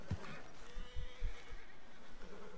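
A horse in Red Dead Redemption II whinnies in a few short bursts over steady game ambience, with faint hoof clops mixed in.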